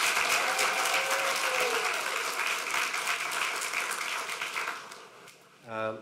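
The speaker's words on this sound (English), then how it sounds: "So please give another round of applause to our students." Applause from an audience at a community meeting, honoring students who spoke, a steady dense clapping that fills most of the stretch and fades near the end, followed by a brief voice.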